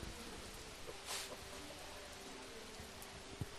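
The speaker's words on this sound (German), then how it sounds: "Ich halte das Mikro einfach mal in den Regen" Heavy rain pours outside the entrance of a concert venue, a steady broadband hiss of fairly quiet, even downpour with a brief louder splash near the middle and no talk over it.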